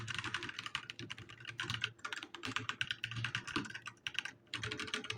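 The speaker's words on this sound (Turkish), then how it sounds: "bendeki e, Red Switch olmasına rağmen sesi fazla geldi yani" Rapid, steady clatter of typing on a Snpurdiri 60% mechanical keyboard with red switches, dense close keystrokes in continuous bursts with brief pauses, no talking.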